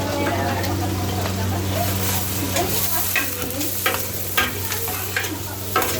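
Garlic and ginger frying in a pan during cooking at a church, a continuous close sizzle with a steady low hum underneath and intermittent stirring scrapes, while people talk in the background.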